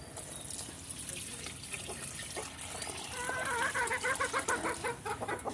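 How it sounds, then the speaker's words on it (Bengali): A hen that has just laid two eggs clucks in a rural village yard, her calls growing louder and more insistent toward the end, with a faint trickle of water in the background. "আমার একটি মুরগিটা ডিম দিচ্ছে, 2টা ডিম দিয়েছে মাত্র"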